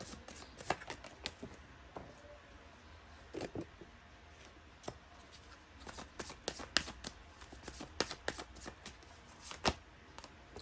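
Tarot cards being shuffled by hand, a soft irregular riffle of card edges and light slaps, close but quiet, with no one talking.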